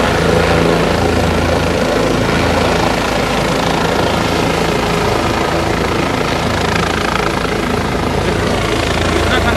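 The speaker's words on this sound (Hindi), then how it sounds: "यहाँ पर हेलीकॉप्टर का जो साउंड है" A helicopter passing over a cold mountain pilgrimage site during Maha Shivaratri, a loud, steady, dense rotor and engine roar that fills the whole stretch without easing.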